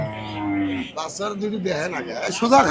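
At a busy cattle market, a cow gives a long low moo, then a crowd of voices talks over further lowing and market bustle.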